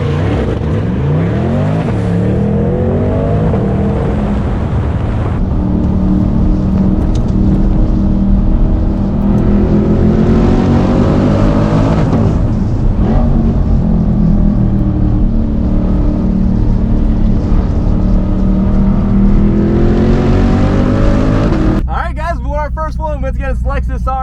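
Cars drag racing at Cleetus McFarland's Spectator Drags, with a C8 Corvette, a GT350 and a 3000GT VR4 in the field. Loud engines rev and accelerate hard through repeated rising gear pulls, heard close and continuous until a sudden cut near the end.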